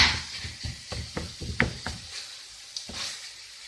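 Minced beef browning in a pan for spaghetti Bolognese, a quiet fry under a run of dull knocks and scrapes as a utensil breaks the meat apart, the taps coming in quick bursts then thinning out.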